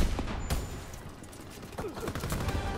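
Dense battlefield gunfire from Call of Duty WWII, with rapid overlapping shots and bursts filling the whole stretch at a steady loud level.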